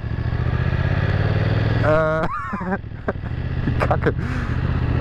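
A BMW F900 motorcycle engine idles with a steady low rumble throughout, while a person speaks briefly over it midway.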